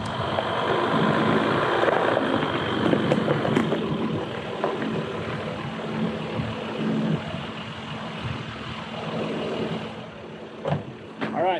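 A 2020 Jeep Wrangler EcoDiesel engine drones steadily and close as the off-roader climbs over a rock, with a low rumble throughout and a few sharper knocks near the end; a person talks over it.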